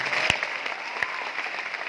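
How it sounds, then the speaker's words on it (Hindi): An audience claps together in a brief round of applause, a dense patter of hands with a couple of sharper, louder claps standing out near the start. "अपने लिए ताली बजा लो"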